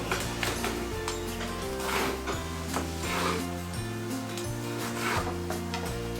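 A knife shreds a piece of lettuce into long skinny strips, giving quiet, repeated scraping cuts over steady background music with no talking.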